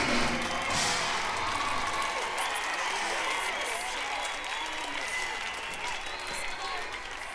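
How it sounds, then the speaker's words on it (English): Live concert crowd captured on crowd mics, applauding and cheering in a dense, sustained wash of clapping and shouts that stays loud and fairly even throughout, with voices mixed into the roar. "place where the crowd starts to applaud and they essentially erupt"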